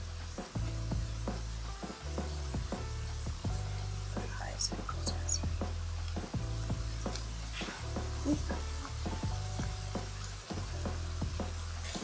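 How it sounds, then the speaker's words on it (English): Onions sauté in a pan for a South Indian potato curry, a soft steady sizzle running beneath quiet speech and occasional clinks and stirring sounds. "that means that the onions are sauteed enough"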